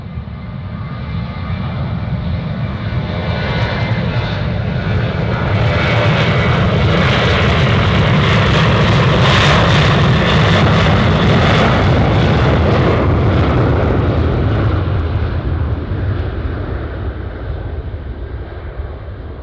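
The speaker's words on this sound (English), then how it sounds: "up next to take off, we have a 737 Alaska." Alaska Airlines Boeing 737 taking off at Anchorage airport, a loud sustained jet engine roar that swells to a peak midway and holds broad and steady before easing slightly.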